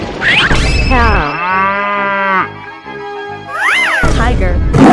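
A cow in a 3D animal video game gives one long, loud, drawn-out moo, followed by a brief quieter call, set between bursts of noisy game sound.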